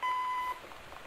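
A single clear electronic beep, about half a second long, from an answering machine starting message playback in the game Gone Home, followed by quiet room tone.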